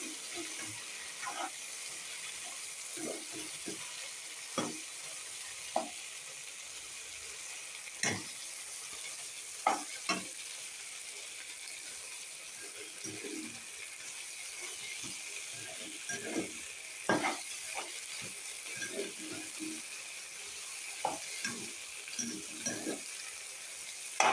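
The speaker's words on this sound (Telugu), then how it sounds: "బాగా మిక్స్ చేసుకొని ఆ ఫ్లేవర్ అంతా పట్టేలాగా బాగా మిక్స్ చేసుకోవాలండి" Meal Maker biryani being stirred and mixed in a pan, a quiet sizzle under scattered scraping and clinking of a spoon, irregular and close.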